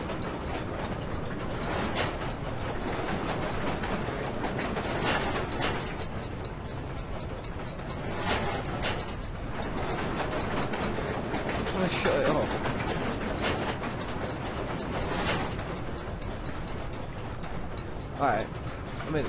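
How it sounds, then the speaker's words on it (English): A noise machine in the game Amnesia: The Dark Descent runs with a steady, dense mechanical clanking and ratcheting rumble, like gears or rolling rail cars, loud and continuous throughout. "two levers control the noise machine."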